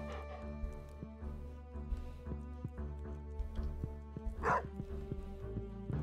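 A dog barks in Stardew Valley, with a few yips and barks rising over steady background game music, fairly close and moderately loud.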